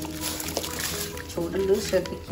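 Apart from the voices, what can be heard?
rice poured into boiling water in a pot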